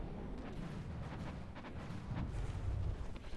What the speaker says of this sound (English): Oh, we blew up something here.